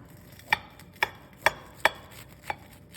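Knife slicing into a pudding-filled biscuit, five crisp distinct cuts about half a second apart striking a board, close and clear against a quiet background.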